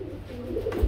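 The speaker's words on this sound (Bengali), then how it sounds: "এক জোড়া রাসগোল্লা কবুতর রয়েছে রেড কালারের মধ্যে" A pair of red Rasgolla pigeons cooing softly, a low repeated murmuring call close by, with a brief faint rustle near the end and no talking.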